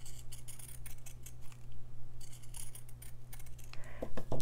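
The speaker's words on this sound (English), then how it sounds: "Trim a little more off that piece" Scissors trim a fabric piece in slow stitching work, giving a series of close, soft snipping and crisp cutting clicks in an irregular rhythm, with no talking.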